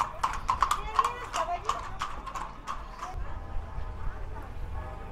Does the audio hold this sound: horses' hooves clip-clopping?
yes